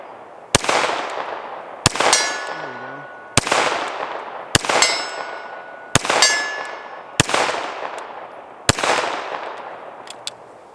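A Canik TTI Combat pistol fires seven evenly spaced shots, each followed by a ringing clang from a steel silhouette target 60 yards away, with the ring decaying between shots.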